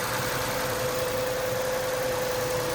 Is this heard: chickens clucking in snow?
no